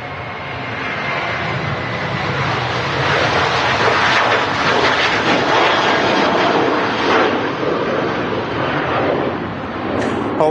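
Aircraft engines roar at Manchester Airport: a loud, steady, broadband rumble that holds for the full stretch with no speech over it.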